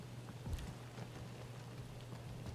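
Steady patter of rain inside the video game Guardians of the Galaxy, a soft, continuous hiss with scattered drops, faint and distant beneath a low hum.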